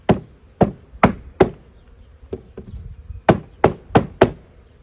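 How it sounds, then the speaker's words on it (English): Sharp hollow wooden knocks ring out as a beehive frame is tapped to dislodge dead bees, about a dozen taps in uneven clusters, close and loud against quiet background. "I always take the frame and give it a good tap."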